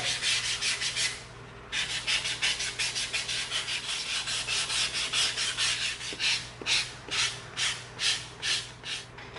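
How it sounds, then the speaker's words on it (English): Close, rhythmic back-and-forth rasping of a 220-grit sanding stick rubbing an EVA foam edge, repeated strokes with a brief pause early on, no talking. "let's get out our sanding sticks. Here's our 220. Let's clean the edge up."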